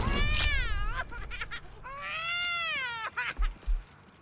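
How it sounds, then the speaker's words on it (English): Cat meowing inside the video game Baldur's Gate 3, two drawn-out plaintive mews followed by a few short softer calls, loud and close over faint game ambience. "Is there a cat baby in there?"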